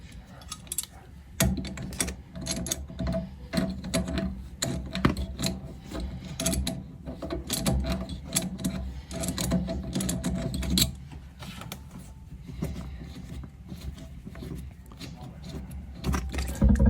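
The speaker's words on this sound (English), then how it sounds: "Then we will take the other nut off with a pair of channel locks." Channel lock pliers gripping and turning a toilet water supply nut to loosen it, giving a dense run of close metallic clicks, scrapes and ratcheting taps that continues steadily throughout.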